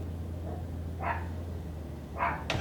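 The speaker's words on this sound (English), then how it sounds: "I left my dog out on the patio, and she's out there barking because she wants to get in." A pet dog left outside on a patio gives two or three muffled barks, separated by pauses, heard faintly from beyond a wall over a steady low hum.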